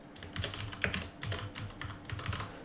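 Fingers type on a computer keyboard in quick uneven clusters of clicks, close and fairly soft, with short pauses between bursts.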